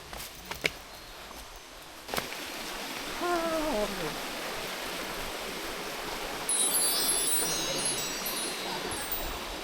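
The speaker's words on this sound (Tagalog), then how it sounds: "Diyan na yung Kitong Falls." Kitong Falls in Tublay, Benguet: a steady rush of falling water fills the scene as a broad hiss, with a few brief knocks early on and a faint bird-like call partway through.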